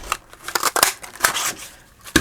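Scissors snip through paper while cutting a journal belly band, a quick series of close, crisp cuts in an uneven rhythm.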